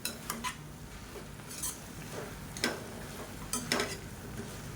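A utensil scrapes and taps against a pan as coriander and mint are stirred and lightly sautéed, with a few sharp metallic clinks at irregular intervals over a faint, quiet background.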